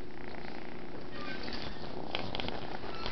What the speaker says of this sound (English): Listen to the purr of the Nico.